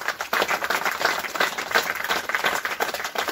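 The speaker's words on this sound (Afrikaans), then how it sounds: "gee vir hulle klap" A church congregation claps together, a close, busy patter of many hands beating in quick, slightly uneven rhythm that carries on without pause for the whole stretch.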